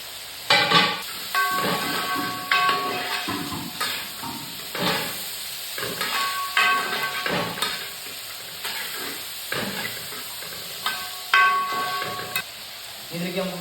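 Ginger, garlic, onion and capsicum fry in a pan for Gobi Manchurian, a constant sizzle broken by repeated stirring scrapes in uneven bursts, close and fairly loud.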